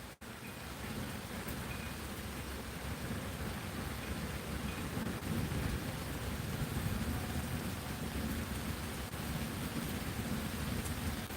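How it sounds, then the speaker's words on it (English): Heavy rain pours down during a thunderstorm as a dense, loud, unbroken roar that holds steady throughout, with no voices. "it's really pouring now"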